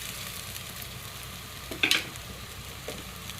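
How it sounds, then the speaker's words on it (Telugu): Ginger garlic paste frying in oil for crab curry, a soft continuous sizzle in a pan with a brief louder stirring scrape in the middle. "ఇప్పుడు నూనెలో పచ్చివాసన పోయే వరకు ఈ అల్లం వెల్లుల్లి పేస్ట్ వేయించుకోవాలండి"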